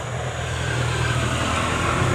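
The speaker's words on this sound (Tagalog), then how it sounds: "may mga dumadaan na motor sa baba" Motorcycles pass on a road below, a steady broad engine rumble and road noise held at moderate distance throughout, with no talking.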